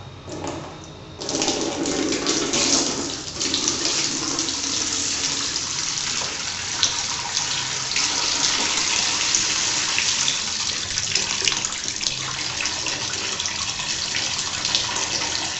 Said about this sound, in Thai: แล้วก็ค่อยๆ ปล่อยน้ำออกมาครับ